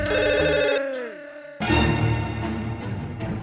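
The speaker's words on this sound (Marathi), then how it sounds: "जेठालालचा फोन येतोय." A telephone rings with a bright, repeating electronic ringtone, loud and close, in a Taarak Mehta comedy scene; the tone pauses briefly and then resumes, with no talking over it.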